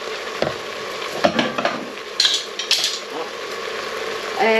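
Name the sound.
spoon stirring mince beef pie filling in pan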